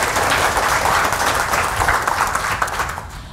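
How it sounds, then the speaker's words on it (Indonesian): Audience applause at a health seminar, a dense, steady burst of many hands clapping that fills the room, then tapers off toward the end. "Tepuk tangan buat kita semua dong, Bapak sekalian ya."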